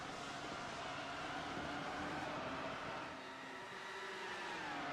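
A pack of race cars roars by together at the Sebring Grand Prix in a racing game, a dense, steady engine drone with layered whining pitches that sustains throughout at moderate level, no voices.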